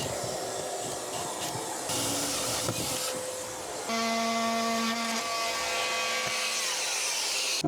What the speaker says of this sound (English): that's drilling in this beautiful wood